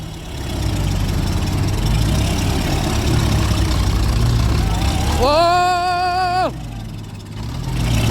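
A ten-wheeler truck idles loud and close with a low diesel rumble while it is guided into place. A brief tonal horn-like blare rises partway through and then cuts off.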